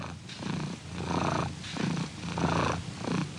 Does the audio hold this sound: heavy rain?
no